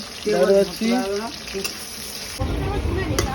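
Onion frying in a pan gives a close, continuous hiss and crackle. Brief voice-like tones rise over it early on, then the sizzle carries on alone and grows slightly rougher near the end.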